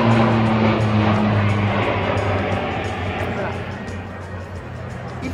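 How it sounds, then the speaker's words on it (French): Aircraft passing overhead near a rodeo grounds in Cheyenne, a broad steady roar that slowly fades across the span, with a low engine hum, continuous and fairly loud. "attendre que l'avion passe"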